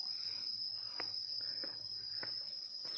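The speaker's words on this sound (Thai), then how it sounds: "เฮ้ยจักรจันมาร้องในตอนนี้" A cicada's steady, shrill drone holds at one high pitch throughout, with a few faint clicks and rustles underneath, outdoors.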